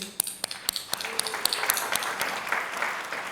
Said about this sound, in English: Applause for nothing.